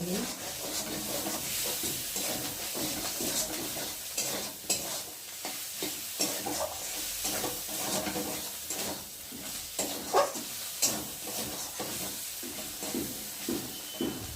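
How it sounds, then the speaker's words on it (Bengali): Spice paste fries in oil while being stirred for a dish of Malabar spinach with Bombay duck fish, a continuous sizzle broken by repeated scraping strokes of a spoon against the pan. "মশলাটা ভালো করে কষিয়ে নেব"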